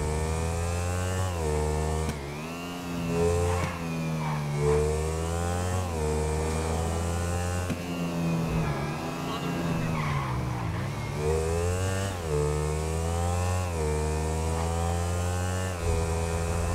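Motorcycle engines in GTA V rev loudly and continuously during a bike top-speed test, with rising and falling pitch sweeps as the bikes accelerate and shift, tire skids breaking in.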